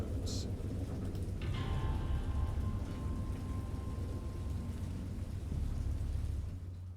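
A dense, steady wash of heavy rain roars under a low rumble of thunder in the video game Dagon, with a brief higher tone surfacing partway through.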